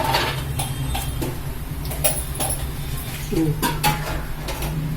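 Lentil dumplings drop into a pot of simmering gravy, bringing several soft plops and metallic clinks of a spoon against the pot over a low rumbling background.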